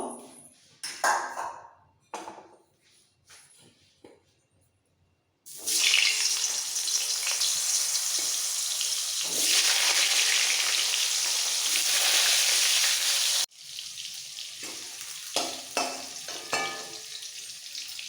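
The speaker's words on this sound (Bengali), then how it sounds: "এবার এই তেলে আলু ভেজে নেব" Potatoes frying in the mustard oil left from frying rohu fish give a loud, continuous sizzle in the middle stretch. Scattered clinks and stirring knocks from a kitchen pan come before and after it.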